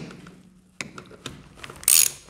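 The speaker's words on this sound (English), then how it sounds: "Just ratchet it in" A ratchet tightens the screw on a hose clamp for a transfer tank hose, giving a series of close, quiet clicks, then a brief bright metallic rasp near the end.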